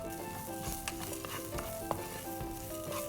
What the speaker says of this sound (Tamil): கொஞ்சமாக சீரகம் அண்ட் கொஞ்சமாக இஞ்சி, மிளகா, அப்புறம் கருவேப்பிலை, இது எல்லாத்தையும் நான் நெருக்கி வச்சுருக்கேன். இதை கொஞ்ச நேரம் வதக்கலாம்.